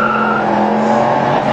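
A 1969 Chevrolet Camaro Z28 with a carburetted V8 and deep-toned mufflers, giving a steady, loud engine and exhaust drone with a held tonal note, close by and with no talk.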